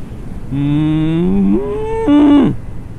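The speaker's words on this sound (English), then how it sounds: "Oh, cows." Cattle mooing nearby on a farm, a long, loud, drawn-out low moo that rises in pitch and ends with a second, brighter bellow, alone without talk.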